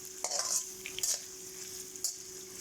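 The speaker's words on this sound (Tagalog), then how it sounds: "igisa natin ang bawang at yung sibuyas" Garlic and onion sauté in a pan with a soft, faint sizzle, while a utensil makes a few quick clinks and scrapes against the metal and a low steady hum runs underneath.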